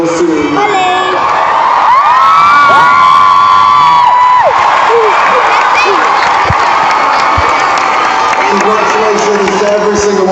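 A large crowd at a We Day youth event cheers, whoops and shouts loudly, a near continuous roar of voices with children's yells and a few sustained high cries, with some speech mixed in.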